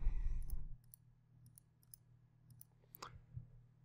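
A computer mouse gives a series of sharp, quiet clicks, spaced roughly half a second apart, close up and alone against a low background hum.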